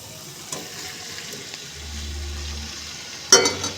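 Potatoes and bell pepper being stirred in a cooking pan: soft scraping and a faint sizzle, with a low hum in the middle and a sharper clatter of spoon against pan near the end.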